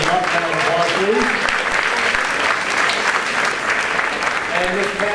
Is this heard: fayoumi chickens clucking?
no